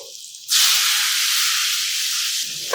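A cup of water poured into a hot pan of potato curry with green chilli and turmeric gives a loud, steady hiss that bursts in suddenly and holds for about two seconds before easing.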